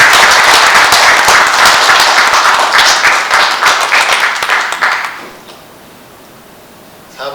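A banquet audience applauds a former two-division WBA boxing champion, a loud, dense wash of clapping that fades out around five seconds, followed by near silence.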